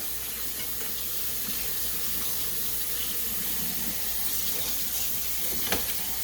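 Water from cooked shell pasta drains into a kitchen sink with a steady rushing trickle, fairly close and continuous, with a few faint clinks, and no talk.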